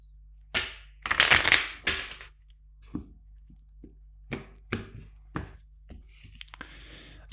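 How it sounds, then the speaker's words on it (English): A tarot card deck being shuffled, with a long riffling burst early on, then a series of short, sharp card snaps and taps spaced about half a second apart, close and fairly clear. "Two more shuffles."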